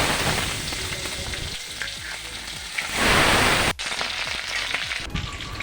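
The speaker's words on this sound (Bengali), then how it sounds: "তেলটা গরম হয়ে গেলে জিরা ফোড়ন দিব, তারপর তেজপাতা দিলাম, পেঁয়াজের কুচি দিলাম," Cumin seeds, a bay leaf and chopped onion fry in hot oil in a kadai for a desi chicken curry. The close, continuous sizzle swells louder midway, breaks off for an instant, then crackles on, with no talking.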